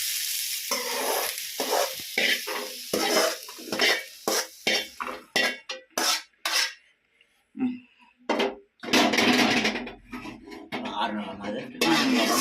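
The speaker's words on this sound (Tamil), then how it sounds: "இதை வதக்கி நம்ம தட்டில் எடுத்துக்கலாம்" Ridge gourd sautés in oil in a pan, being prepared for pickle. Brisk, repeated spatula scrapes and clinks alternate with a loud sizzle and brief pauses, close up, with short stretches of near silence between bursts.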